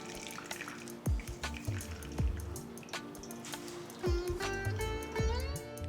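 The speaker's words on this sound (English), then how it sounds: "Now squeeze out all the excess water." Water drains from fresh chena squeezed in a muslin cloth, falling as a few distinct close drips and trickles over a quiet kitchen background.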